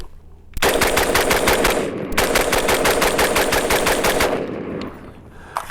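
Rapid automatic gunfire from an AR-15 with a budget Bear Creek Arsenal complete upper, shooting M855 X-Tac 62-grain rounds: two long, loud, evenly spaced bursts of sharp reports separated by a brief pause, close to the listener.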